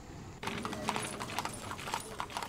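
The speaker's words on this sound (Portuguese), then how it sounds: "as charretes puxadas a cavalo são um atrativo turístico" Hooves of a carriage horse clip-clop on a street in Bayamo, Cuba, a steady, fairly close rhythmic clatter of evenly spaced hoof strikes running throughout.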